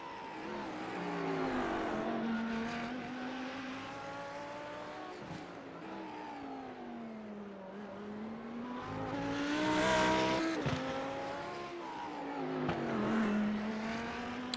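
BMW touring cars race around the tight Long Beach street circuit, engines rising and falling through gear changes as several cars pass close by, with a louder surge midway and brief tire scrubbing.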